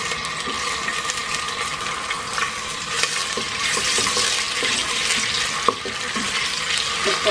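Onion frying in oil for aloo gobi, a continuous hissing sizzle with faint stirring scrapes and a sharp clink partway through, close and steady, no voices.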